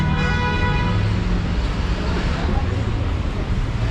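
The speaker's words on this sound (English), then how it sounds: "That is the sound of traffic." Continuous roar of street traffic on Fulton Street in Downtown Brooklyn, a broad steady rumble of passing vehicles with low engine drone and some wind noise on the microphone, heard from the sidewalk.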